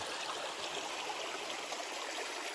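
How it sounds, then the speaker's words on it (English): Water running down a mountainside like a small waterfall near Lone Mountain on the Appalachian Trail, a steady broad rush and trickle that fills the clip alone without pause. "It's more like just water running down the side of a mountain"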